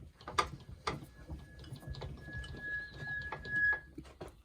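A machine hand wheel is cranked downward on a shop machine, giving a quiet series of clicking ratchety gear ticks at irregular intervals, close and alone, with a faint high whine running through the middle.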